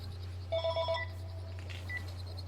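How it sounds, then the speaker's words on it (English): A telephone rings in a video game in short electronic trills, two bursts over a steady low hum, fairly quiet and somewhat distant. "And you hear a phone ringing."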